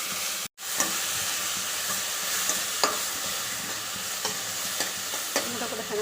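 Chopped tomatoes fry in hot oil for a pea and potato masala, giving a steady crackling sizzle with occasional soft scrapes of a stirring spoon, close and continuous throughout.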